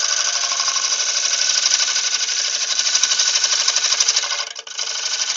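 A lathe chisel cuts a yew wood bowl on a lathe, giving a loud, continuous harsh scraping drone with a fast rhythmic chatter, close and steady throughout with a brief dip near the end.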